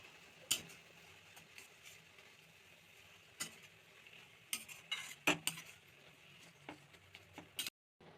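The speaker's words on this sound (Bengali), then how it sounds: "খুব ভালো করে মিশিয়ে নিচ্ছি।" A spoon stirs a coconut and date palm jaggery mixture in a pot, giving scattered soft scrapes and a few sharp metallic clinks over a faint low background, with no talking.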